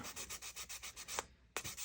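A plastic model car frame from an AMT 1967 Impala street machine kit is rubbed clean in rapid, even back-and-forth strokes, close and distinct, with a short pause before the scrubbing resumes.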